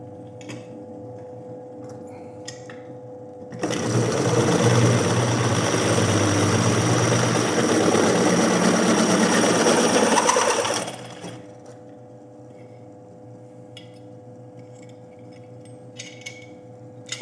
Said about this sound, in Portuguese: eu estou a furar alumínio, sim, é um pouco mais macio